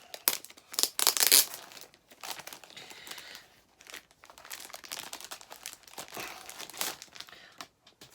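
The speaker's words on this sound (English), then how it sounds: "I'll get the plastic off and let's take a look" Plastic wrap crinkles and tears as it is peeled off a 4K Blu-ray mediabook of Shadow in the Cloud, in loud rustling bursts early on that continue in softer crackling spurts throughout.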